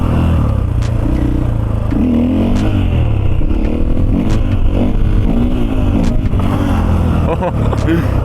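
A brand-new Husqvarna FE450 four-stroke motorcycle engine revs up and down close by, its loud, rough roar rising and falling in pitch, with some clatter throughout.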